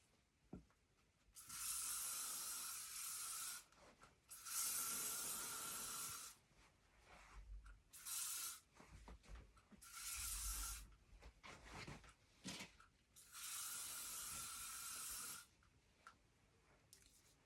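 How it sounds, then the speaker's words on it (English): Repeated long hissing bursts of aerosol hairspray on a curled human hair wig, several sprays separated by short pauses, close and fairly loud with no talking. "I'm just going to spray her with some hairspray just to hold the curls"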